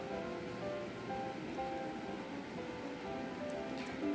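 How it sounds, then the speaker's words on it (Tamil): Shallots and garlic sauté in hot oil in a pan while vatha kuzhambu is being made, giving a steady, dense sizzle that holds level throughout with no one speaking. "சின்ன வெங்காயமும் போட்டுக்கலாம். போட்டுட்டு அதை கொஞ்சம் வதக்கிக்கலாம்."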